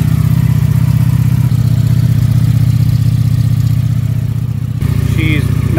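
A Ducati Streetfighter V4S motorcycle with a dual outlet exhaust runs loud and close at a steady high drone that drops off near the end, with a voice briefly heard.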